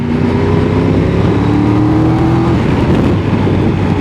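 A car in sport mode at a motoring festival revs hard close by, its engine tone climbing through gears with a brief blip at the change, loud and steady with no talk.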